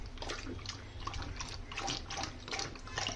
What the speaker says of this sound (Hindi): देखिए पानी गिराते जा रहा है